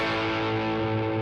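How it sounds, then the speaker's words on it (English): Electric guitar on a crunch channel with light distortion, one sustained chord ringing out with a gritty, harmonically rich tone that holds steadily for over a second. "The crunch is like a little bit of distortion."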